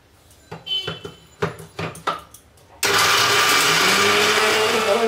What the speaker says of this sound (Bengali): ওই জন্য আমি ছোটো জারটা নিয়ে নিয়েছি এবং এতে গুঁড়ো করছি